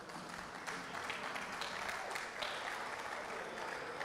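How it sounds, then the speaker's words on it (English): A seated audience at a master class gives a round of applause for a presenter, a dense, fairly distant wash of many hands clapping steadily without a break. "Please, let's clap for him again."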